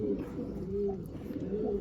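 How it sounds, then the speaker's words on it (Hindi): Soft, low cooing of a white-eyed pigeon repeats in gentle throaty phrases, close by and fairly quiet against a faint background. "सफ़ेद आँख का कबूतर बहुत ही प्यारा कबूतर है"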